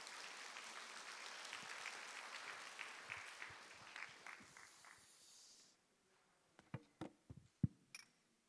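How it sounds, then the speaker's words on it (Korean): Church congregation applauding as a pastor is welcomed to give a special lecture, steady broadband clapping for about six seconds that fades, followed by scattered sharp knocks and footsteps. "우리 이한길 목사님 나오실 때 큰 박수로 함께 환영하도록 하겠습니다"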